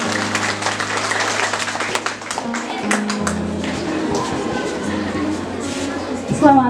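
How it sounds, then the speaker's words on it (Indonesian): Applause from an audience at a school student council (OSIS) election event at a Catholic vocational high school, a dense wash of clapping that runs steadily throughout, with music or a background tone underneath. "Untuk itu kita beri tepuk tangan yang meriah."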